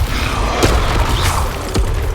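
Incendio fire spell cast in Hogwarts Legacy: loud booming combat with a few sharp whooshing bursts and thuds layered over a dense, rumbling low roar.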